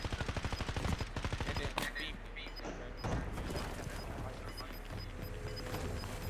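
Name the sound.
gunfire in a video game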